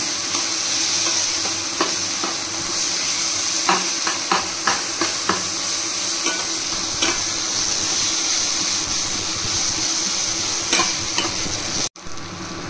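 Ginger and garlic paste sizzles steadily in a pan of hot oil for a Bengali egg curry, with repeated scraping clicks of a spatula stirring it, close and continuous, with no talking.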